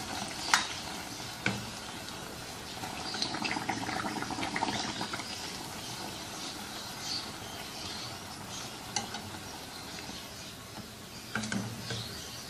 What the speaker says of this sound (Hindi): ऐसे ही अपनी सारी पूड़ियाँ फ्राई कर लेंगे।